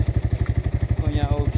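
A motorcycle engine runs close by in a steady, rapid thumping rhythm throughout, with a faint clatter toward the end.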